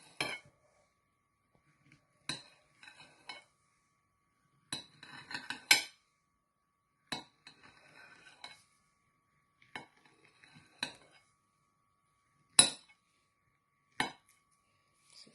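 Knife chopping a banana into chunks on a plate, heard as a dozen or so sharp, close clinks and taps spaced irregularly, some in quick little clusters, with quiet gaps between them.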